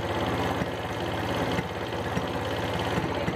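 A Bajaj Boxer motorcycle engine idles steadily while its air mixture screw is being adjusted, giving a continuous, even mechanical chug with faint knocking and vibration.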